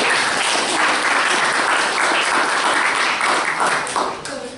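Audience applause at a library event in Auckland, a steady wash of many hands clapping close and loud, fading slightly toward the end with some voices mixed in.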